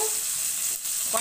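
Pieces of boal fish fry in a pan with a soft, steady sizzle and hiss, fairly quiet and close, with a faint stir at the very end.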